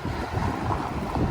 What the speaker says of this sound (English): Wouldn't be so bad if it wasn't so windy out.